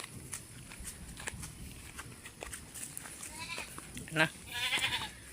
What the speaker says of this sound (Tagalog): Ito na tayo sa kambing.